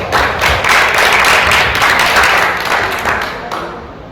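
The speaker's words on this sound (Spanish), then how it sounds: "Den un aplauso al Señor." Loud, dense applause from a church congregation during a Spanish-language service, a steady wash of many hands clapping close by that tapers off in the final second.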